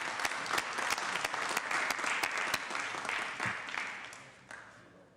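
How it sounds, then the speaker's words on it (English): Steady applause from the audience for the scouts at a city council meeting, moderately distant and even, tapering off toward the end. "Let's give scouts a big round of applause."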